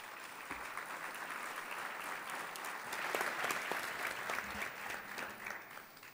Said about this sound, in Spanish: A ellos este fuerte aplauso, así los recibimos